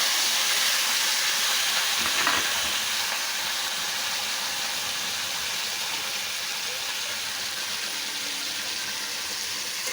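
Crab frying in hot oil gives a loud, steady sizzle and hiss that fills the whole stretch without pause, with a faint clink near the start.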